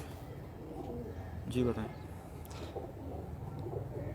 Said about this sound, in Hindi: तो ये मेरे फेवरेट कबूतरों में आते हैं ये।